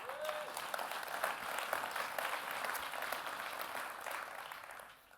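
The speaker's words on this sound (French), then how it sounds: "On applaudit bien fort Abou." An audience at a retail conference applauds a man named Abou, with steady, dense clapping sustained throughout before fading at the close.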